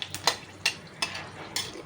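Dried chillies and black cumin fry in oil for a Bengali pabda fish curry, heard as a series of sharp clinks and stirring scrapes with a light sizzle underneath, close and fairly loud, no voices.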